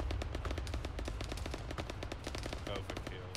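Rapid, steady bursts of .50 cal machine gun fire from a technical in Arma 3, loud and close, with dense repeated shots and a low rumble beneath throughout.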